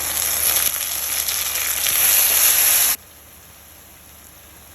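Curry leaves sizzle loudly in hot oil while crab fry is prepared. A dense, steady hiss lasts about three seconds and then cuts off abruptly into near silence.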